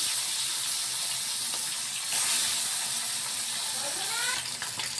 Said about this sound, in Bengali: এক এক করে তেল গরম হয়ে গেছে, আমরা মাছগুলো ছেড়ে দেবো।